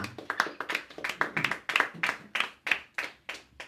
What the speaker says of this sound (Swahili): Pige Bwana Yesu makofi mazuri